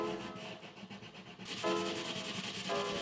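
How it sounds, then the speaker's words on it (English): Sandpaper rubs back and forth over the wooden body of a handmade acoustic guitar, smoothing it to 220 grit after gluing; a close, steady run of rasping strokes with no voices. "After the glue dries, I re-sand it all down to 220 grit again."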